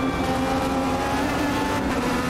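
A race car engine in the Automobilista 2 racing game drones at a steady high pitch with a constant whine, loud and continuous, with no voices.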